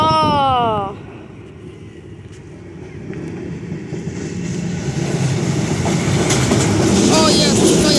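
Train number 1037 in Kołobrzeg approaching and passing close by, a low rumble and wheel clatter swelling steadily louder, preceded by a brief whistle-like squeal at the start.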